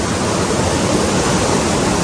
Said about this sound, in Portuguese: A gente vai seguindo aqui até essa corredeira maravilhosa